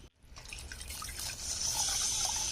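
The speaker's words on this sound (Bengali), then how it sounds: "এবার এখানে আমি লিকুইড দুধটা ঢেলে দেবো এই মিষ্টি রসের মধ্যে" Liquid milk is poured into sweet sugar syrup in a pan, giving a steady close trickling pour that swells slightly as it goes, with no talk.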